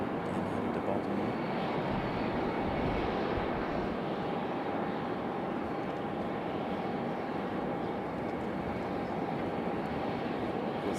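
A Southwest Boeing 737 MAX jet departs Raleigh-Durham for Baltimore, its engines a steady, loud broadband roar with a faint whine holding across the whole stretch.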